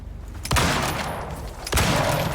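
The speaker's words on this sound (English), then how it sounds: "I swear I was shooting at the bear" Two loud gunshot blasts about a second apart, fired at a bear in the survival game Icarus, each followed by a short rumbling tail over steady background noise.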